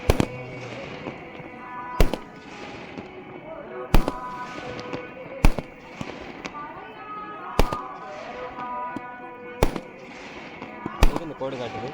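Firecrackers burst at a Pathirakali Amman temple festival in Chithambara Nagar, Vilathikulam: about seven sharp, loud bangs land roughly every two seconds over a busy bed of crowd noise and voices.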